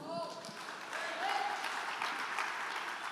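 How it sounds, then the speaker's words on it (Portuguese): Church congregation at a Sunday family service clapping together, a dense continuous wash of applause rising slightly midway, with a voice faintly over it. "Dê um aplauso ao Senhor"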